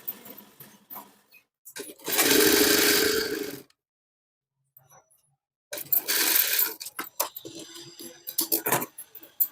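Sewing machine stitching piping onto a blouse edge, in two loud bursts of rapid whirring separated by a pause and handling clicks.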